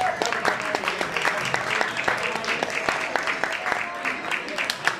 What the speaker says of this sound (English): Now give her a warm hand clap.